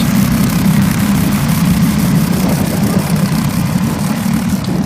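Racing go-karts on an outdoor kart track during a 15-kart memorial race, a dense, steady engine drone held loud and continuous throughout with no break.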